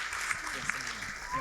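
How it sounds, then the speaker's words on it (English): A live audience at an onstage celebrity interview event in Durban, South Africa, applauds in a steady, fairly soft patter for just over a second, with voices mixed in. "Come on, let's give her a huge round of applause."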